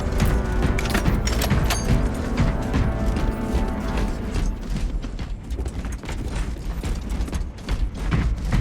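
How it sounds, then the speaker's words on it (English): Weapon reloading in Space Marine 2: ratcheting, clicking mechanical clacks and gear-like rattles sit in a dense, steady wash of game noise and rumble, continuing loudly throughout. "Reloading."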